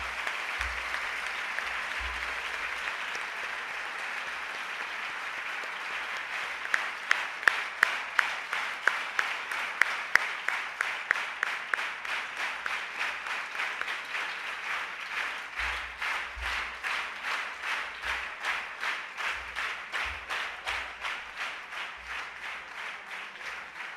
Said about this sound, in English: I request everyone to give the winners and participants of the various competitions a huge round of applause.